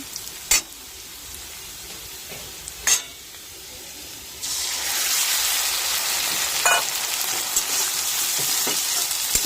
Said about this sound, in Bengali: এখন লাল লাল করে ভেজে নিচ্ছি